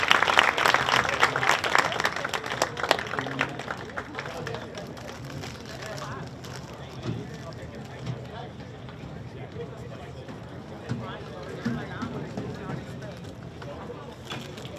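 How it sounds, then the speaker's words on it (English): Crowd applause at a high school baseball game between Brother Rice and Detroit Edison, loudest over the first few seconds and then settling into a steady, diffuse murmur of clapping and outdoor crowd noise. "Let's give a round of applause for Grandma P."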